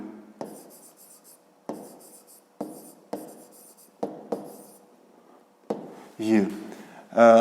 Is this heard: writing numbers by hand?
yes